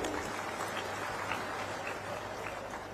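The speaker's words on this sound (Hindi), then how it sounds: "एक बार जोरदार तालियों से स्वागत करिए एक बार" Faint, distant applause from a large political conference audience welcoming Mallikarjun Kharge, a soft, even patter of clapping carried through a hall PA.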